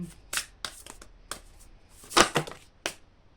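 Oracle cards shuffled by hand in a few brisk riffles and taps, with one louder burst midway, close and fairly quiet in a still room with no talk.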